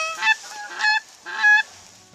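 Geese honk in three loud, close bursts over about two seconds at a goose hunt, calls spaced roughly half a second apart and fading in between.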